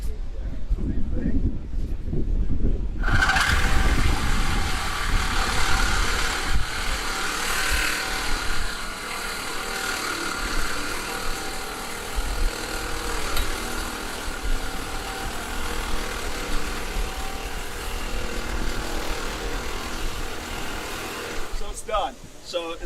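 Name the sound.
reciprocating saw blade cutting rebar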